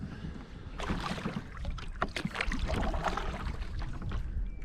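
Paddle strokes splash and drip as a canoe or kayak moves across a lake in Manitoba's Interlake, with light wind noise over the water and no talk.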